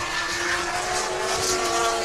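The D-Max Nissan S15 drift car engine drones at sustained high revs during Formula Drift in Japan, a loud continuous roar with faint tire noise and no speech.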